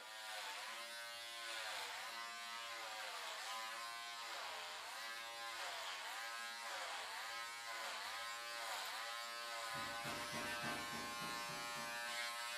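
Electric clippers buzz steadily up close, the motor pitch bogging and rising in a slow repeating rhythm as they push through thick hair.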